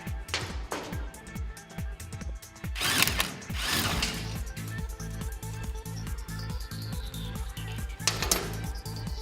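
Ratchet wrench loosening 21mm nuts on the transport frame of a TWIN BUSCH TW 436 P park lift, with rapid rhythmic clicking pawl strokes close up, interrupted by occasional metallic clanks and scrapes.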